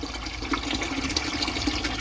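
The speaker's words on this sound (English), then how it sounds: "So this water coming out of here is actually better than was coming out in the house, because this is filtered." Filtered water runs steadily into a bucket, a continuous close splashing and gurgling stream with no pauses.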